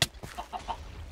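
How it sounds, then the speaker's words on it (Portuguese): A chicken in a video game gives a sharp opening sound, then three short clucks in quick succession, fairly close and clear with no voices. "Ei, galinha, tá tudo bem?"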